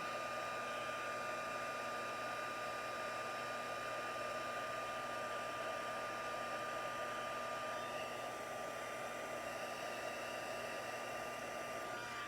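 A heat tool runs while heating a tri-fold card in papercraft, producing a constant, even whooshing blow with a steady hum that carries on unbroken throughout.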